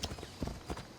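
Horse hooves clip-clopping in a steady trotting rhythm while riding in Assassin's Creed Odyssey, moderately close, with ambient game sound beneath.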